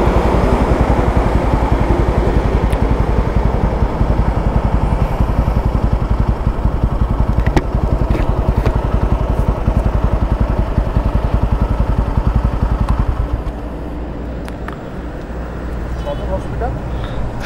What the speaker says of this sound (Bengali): আমি আজকে টিভিএস রনিন 225-এর 0 to 60 এবং 0 to 100 একটু ট্রাই করবো